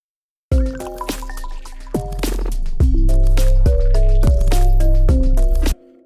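A punchy synthesizer pattern with deep bass notes and sharp percussive hits plays loudly in a repeating groove.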